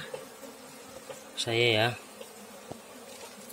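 Bees buzz during a honey harvest, one brief, loud, close buzzing burst lasting about half a second over quiet outdoor ambience, with someone speaking faintly.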